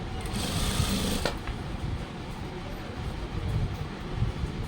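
Sewing machine stitching a school uniform pant, a steady low mechanical whir running throughout at close range with a faint higher hiss early on.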